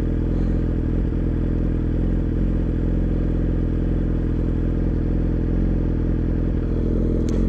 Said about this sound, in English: you'll hear this bike, or you'll hear the auto-tune intervene in the idle.